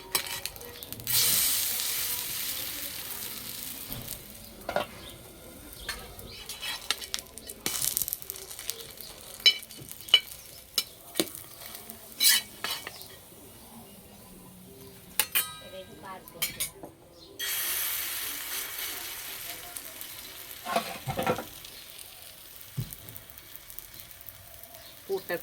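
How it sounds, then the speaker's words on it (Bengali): Semolina and potato snacks frying on low heat in a pan, with a soft steady sizzle under repeated clangs and scrapes of a utensil against the metal, plus occasional louder knocks. "হালকা আঁচে ভাজতে হবে।"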